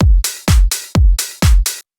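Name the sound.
clap drum sample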